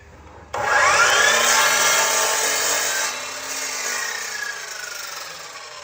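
A power tool starts abruptly and cuts through wood with a loud, steady whine and rasp, easing off slightly partway through as the cut continues.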